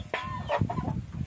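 Chickens clucking inside a backyard coop, a loud close burst of overlapping hen clucks and squawks with some rustling, no talking.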